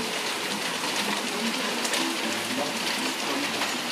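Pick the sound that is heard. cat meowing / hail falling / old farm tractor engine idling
hail falling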